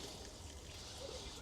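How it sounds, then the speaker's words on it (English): Tap water runs through a once-blocked sink drain, giving a short, soft, steady trickling flow at close range with no talk. "I'm gonna turn the water on, and let's see if we can flush through"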